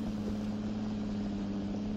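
An articulated tractor engine in Farming Simulator 2013 drones on at a steady low pitch, a constant rumble with a faint airy hiss and no changes.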